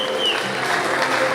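Applause for Vika's birthday: a steady, dense patter of clapping from a group, held evenly throughout.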